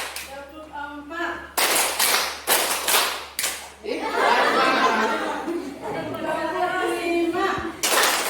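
Classroom group doing a counted clapping exercise: a few sharp, loud bursts of clapping in unison, separated by short gaps, then a longer stretch of chatter and laughter, with one final clap at the end.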